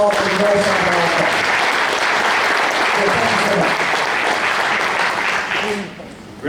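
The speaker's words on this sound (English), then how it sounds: "Let's give Hezekiah and Casey a round of applause for the North-South All-Star" Sustained audience applause for two high school football players named to a North-South All-Star game, heard at a touchdown club meeting; loud, dense clapping fills the room steadily for about six seconds, then fades out at the end.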